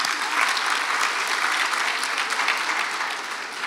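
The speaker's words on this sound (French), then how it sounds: "On peut les applaudir aussi." An audience claps steadily throughout at an embassy reception for the July 14 national day, a thick, even wash of applause with no pauses.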